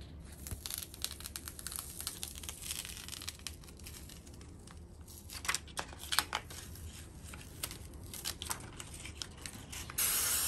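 A spray paint can marks the crossbars of a plastic template in faint, intermittent hissy bursts mixed with light crinkling and ticking handling noise, close and quiet, with no voices.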